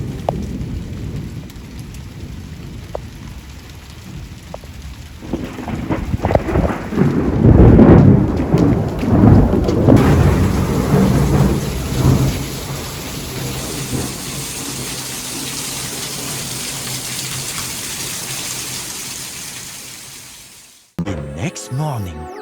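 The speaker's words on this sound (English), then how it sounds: "I saw this massive rainstorm on the horizon" A thunderstorm with heavy rain: a steady roar of pouring rain with a long rolling rumble of thunder swelling in the middle, fairly loud and close, ending in an abrupt cut.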